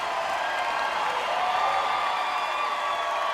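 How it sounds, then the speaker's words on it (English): A crowd at the American Gladiators Season 5 Grand Championship roars in a steady, dense wash of thunderous applause and cheering that holds unbroken at a distance. "Kim Tyler will finish it out to a thunderous applause."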